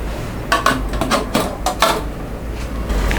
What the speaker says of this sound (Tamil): இப்போ வந்து மூடி வச்சிடலாம்